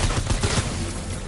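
Suppressed Silent SCAR fire in Fortnite Save the World, a dense, muffled burst of rapid shots blending into a continuous crackling rattle, without speech.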